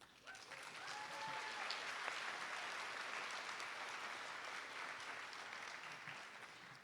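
Audience applause at an NSCS induction ceremony, a steady round of clapping from a seated crowd that swells quickly and holds evenly for several seconds without voices over it.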